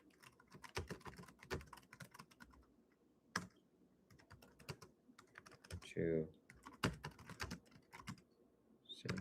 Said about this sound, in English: let me type this keyboard